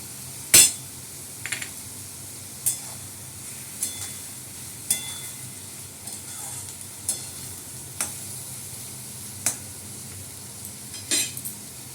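Ginger paste, turmeric and chili powder fry in a pan over a low hiss, while a spoon scrapes and taps the pan in sharp, spaced knocks about once a second.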